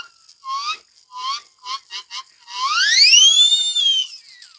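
A shrill survival whistle blown in several short toots, followed by one long rising-and-falling blast, close and clear.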